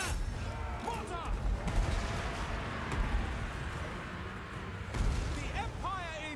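Mortar artillery firing in a Total War battle, with repeated booms and crackling gunfire rolling under shouted battle cries and voiced commands throughout, a heavier blast landing near the end.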